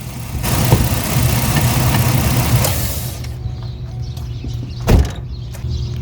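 A car engine idles with a steady, loud hum and then cuts off abruptly about halfway through, leaving a quieter background with a single sharp thump and some light clicks and rustling afterward.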